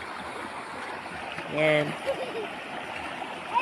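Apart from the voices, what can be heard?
river stream flowing (Castillejos River, Zambales)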